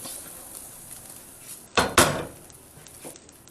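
A metal lid set onto a cooking pot of braised hen on the stove, two sharp close clanks in quick succession followed by a faint lighter tap, against quiet kitchen background.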